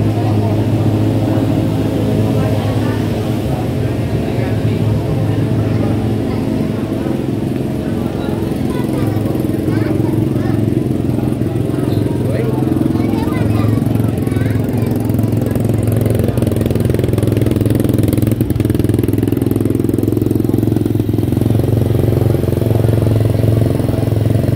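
A motorcycle engine idles and revs close by in a steady low drone at a motorcycle festival, with people talking over it throughout.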